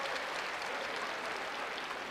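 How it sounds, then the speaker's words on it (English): Husker fans at a Nebraska college wrestling dual meet applaud steadily, an even wash of clapping from the arena crowd that holds at a moderate level throughout. "a round of applause from the Husker fans"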